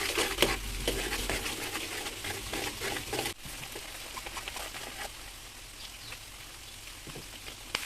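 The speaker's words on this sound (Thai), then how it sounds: "แล้วก็เอาหอมลงทอดเลยค่ะ ค่อยๆใช้ตะหลิวนะคะ คนให้กระจาย" Shallots frying in oil in a wok over medium heat, a continuous crackling sizzle with soft spatula stirring strokes, steady and close, quieter after the first few seconds, with no talk.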